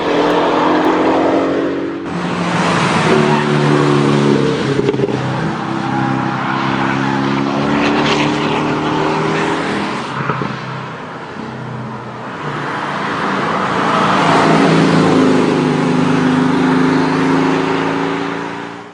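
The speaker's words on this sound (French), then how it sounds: "voici maintenant une vidéo du mulet des nouveaux Cayman et Boxster sur le circuit du Nürburgring" A Porsche Cayman and Boxster test mule laps the Nürburgring circuit, its engine a loud, steady drone that swells and eases as revs rise and fall, carrying on throughout with no voices.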